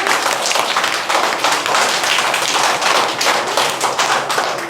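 Loud, dense clapping from a group of school children, a rapid continuous patter of many hands close by, steady throughout.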